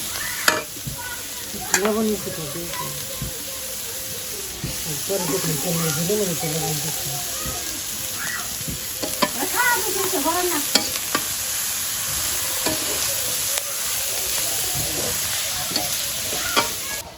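Chicken cooking in a pan with greens and onion, a steady frying sizzle under vigorous stirring and clattering utensil hits, while a person talks intermittently nearby.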